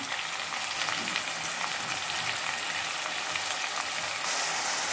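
Chopped onion and brinjal sizzle steadily in hot oil in a pan, a dense, even crackling hiss that carries on throughout, close and without talk.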